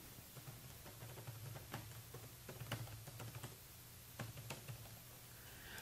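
Fast keystrokes on a computer keyboard as an email address is typed, irregular clicks in quick bursts with short pauses, close and fairly quiet over a steady low hum.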